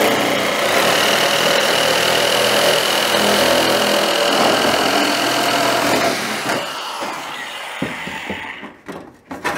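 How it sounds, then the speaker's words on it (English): Electric sheet metal shears cut a strip from an 18 gauge steel panel, a loud steady motor whine with a chattering cut that runs continuously, then winds down and stops near the end. "I'll get the shears fired up and I'll show you just how well these things cut"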